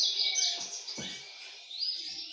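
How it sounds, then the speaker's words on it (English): Birds outdoors chirp and tweet in quick high bursts, several overlapping calls fairly close by, with no voices. "Maybe the birds are still here."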